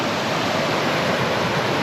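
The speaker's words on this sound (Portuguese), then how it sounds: "a água desce pra tudo que é lado" Water rushes downhill across a hiking trail, a dense, steady broadband roar like a small stream or cascade, loud and close, with no talk over it.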